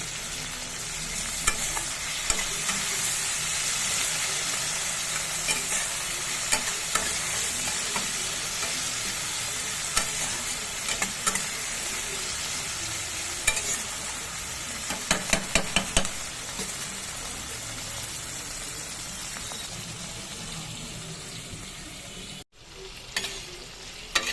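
Chopped green chili and tomato sizzle steadily in a pan for restaurant-style masala mushrooms, with repeated scraping stir strokes across a constant frying hiss and a brief cut near the end.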